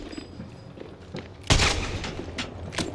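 Gunfire in the video game Apex Legends, with Kraber and Volt weapons in play: a low rumble, then a sudden loud, sharp blast at mid-clip followed by a dense burst of shots and lingering echo.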